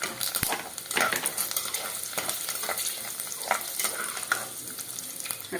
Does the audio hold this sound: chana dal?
yes